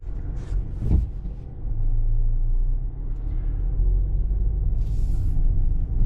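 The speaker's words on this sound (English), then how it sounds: "we are in the 2023 Soul EX, and we are zipping down towards the exit of the dealership" A 2023 Kia Soul EX pulls out of a dealership lot, its steady low cabin rumble of engine and road noise holding at a moderate level, with a couple of brief clicks near the start.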